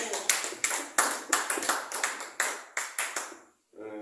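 A church congregation at a Sunday service claps in a steady rhythmic beat, a dozen or so sharp, fairly close claps in a row before stopping, followed by a brief burst of voices.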